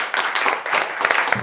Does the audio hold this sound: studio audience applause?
yes